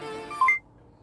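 Telephone tones in the video game Simulacra 2: a brief electronic beep made of two stacked pure tones, about a tenth of a second long, sounding alone over a faint hum before cutting to near silence.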